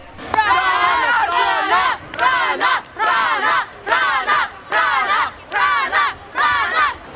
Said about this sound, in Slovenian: brez glasne podpore navijačev s tribun tudi ne gre